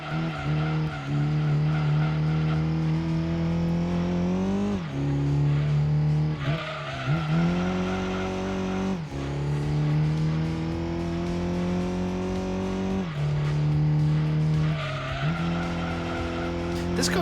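A race car engine in the video game Gran Turismo 2 on PS1 drones loudly and continuously, its pitch climbing and dropping through several gear changes, while tires squeal and skid through corners.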